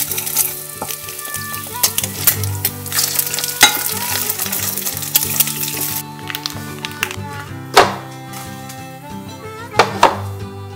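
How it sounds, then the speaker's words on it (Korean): Egg rice frying for breakfast in a country-house kitchen, a steady close sizzle with stirring and occasional clinks of utensil on pan, under light background sound. "오늘 아침은 간단하게 계란밥 만들어서 먹으려고요."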